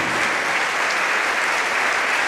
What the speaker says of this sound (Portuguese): E uma salva de palmas para o Senhor que venceu